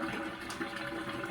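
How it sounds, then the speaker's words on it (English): Water from a turkey dinner being cooked is drained off, making a steady, close rushing pour with a dense, bubbling splash that holds evenly for a second or so. "So I'm going to drain the water"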